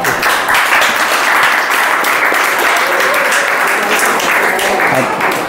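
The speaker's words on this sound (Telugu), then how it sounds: "క్లాప్స్" Schoolchildren at a school cabinet election counting give a loud, dense, continuous round of applause that runs through the whole stretch without a break.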